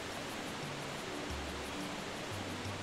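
A steady broadband rush of a waterfall in Super Mario Sunshine, even and continuous with faint low tones drifting underneath.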